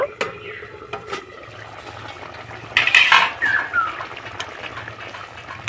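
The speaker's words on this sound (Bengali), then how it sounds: "এবার আমি ঢাকাটা খুলে নেব" A metal lid comes off a pot of mutter aloo curry with a short bright clank near the middle, followed by a few light metallic scrapes over quiet kitchen background.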